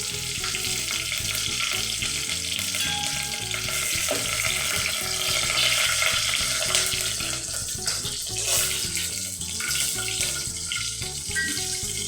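Green chilies, a bay leaf and whole spices sizzle in hot oil with a loud, steady, dense crackle that continues throughout without pause.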